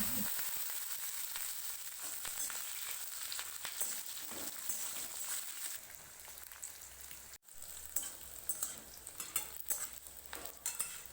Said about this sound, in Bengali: এবার কেটে রাখা পেঁয়াজ রসুন দিয়ে একটু লাল লাল করে ভেজে নেব।